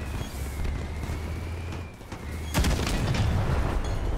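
A heavy weapon fires in the vehicle combat game Crossout: a single sharp boom bursts out midway over a continuous low engine rumble, with the rumble carrying on louder afterward.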